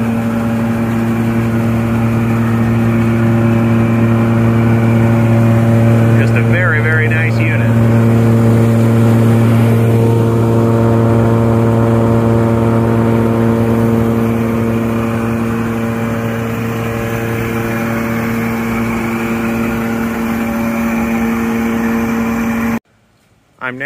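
A Super 297D seed separator runs with a steady, loud mechanical drone and a constant tonal hum, with a brief rattle partway through, under someone talking, before cutting off abruptly at the end.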